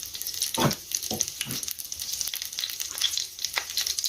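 Cutlets frying in a pan give a steady, close crackling sizzle throughout, with a few louder spatters and soft clinks near the start.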